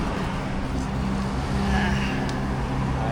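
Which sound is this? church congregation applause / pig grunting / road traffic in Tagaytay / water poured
road traffic in Tagaytay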